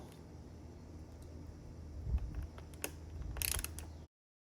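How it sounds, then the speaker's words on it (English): Ratchet clicks while removing the two Torx bolts from the headlamp of a 2023 Ducati Hypermotard 950 SP, a few faint close ticks and a brief burst of rapid clicking near the end, over low background hum. "now you got to remove these two Torx bolts"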